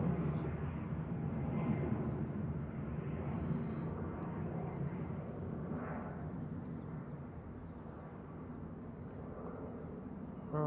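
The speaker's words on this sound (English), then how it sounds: "That was Brussels Airlines departing back to Brussels with a little A320" Brussels Airlines Airbus A320 departing Manchester Airport, a broad steady jet roar heard from a distance that slowly fades, with a voice talking over it.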